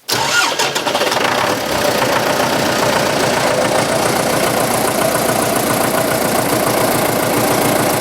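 A tractor fitted with a front loader starts up and then runs steadily, its loud engine noise close and continuous with no talking.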